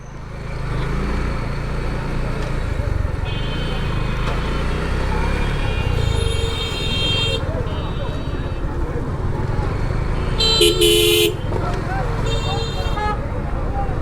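Jammed road traffic with a steady roar of engines and car horns tooting several times, a long blast near the end, with voices over the din.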